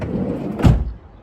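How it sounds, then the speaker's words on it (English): A camper van's sliding door rolls along its track and thuds shut with a single solid bang, heard nearby after a short rumble of movement. "Doors all shut."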